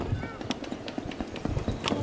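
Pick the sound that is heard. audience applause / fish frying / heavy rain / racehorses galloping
racehorses galloping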